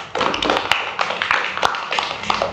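A class of students claps for group 3 in a classroom, a loud, busy patter of many hands that carries on steadily from start to finish.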